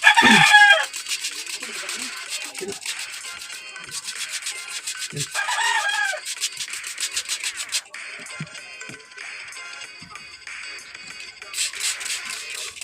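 A hen with her chicks makes clucks and clucking calls, with a crow or loud squawk at the start, over a steady scratchy rubbing noise, close by and without talk.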